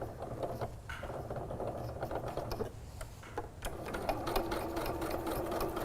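A sewing machine locks a stitch on woven windowpane fabric, a soft continuous whir with ticking needle strokes, close and moderately quiet, with brief pauses and a fuller stretch toward the end.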